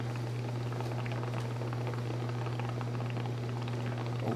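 Methane gas bubbles rising through water, a soft continuous fizzing and popping under a strong steady low hum.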